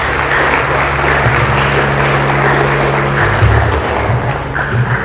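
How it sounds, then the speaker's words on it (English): A crowd applauds the chief guest at a Sikh community gathering, with steady, loud clapping lasting throughout, joined by a low sustained hum in the background. "Let's give a round of applause for our chief guest to make her remarks."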